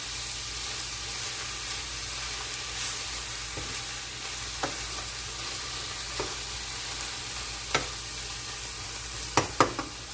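Sofrito frying and sizzling in a pot, a steady soft hiss with occasional sharp pops and clinks of a utensil, no voices.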